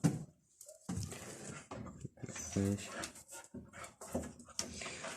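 A dog whimpers in a brief high whine amid panting, heard near but under a person talking, with occasional clinks in the background.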